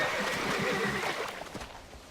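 Horses whinny and neigh loudly at close range over a busy background in the video game Red Dead Redemption, with faint hoof clops mixed in.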